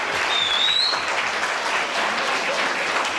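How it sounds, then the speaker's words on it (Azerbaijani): An audience claps steadily and fairly close throughout, applause for a student at a school Flag Day ceremony. "Bir alqışlar."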